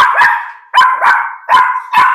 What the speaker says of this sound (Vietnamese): Đây thì chủ cũng nuôi hai con chó nè